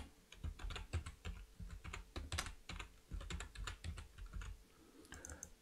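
Fingers type on a computer keyboard, a quick, uneven run of close, crisp key clicks with short pauses between bursts and no talking.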